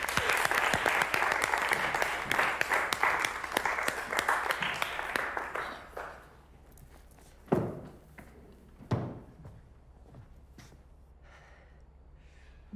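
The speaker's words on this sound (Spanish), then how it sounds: "Un aplaudiment." A small group applauds at the start of a presentation round, a dense burst of clapping that fades after about six seconds, leaving a few isolated claps and quiet rustling.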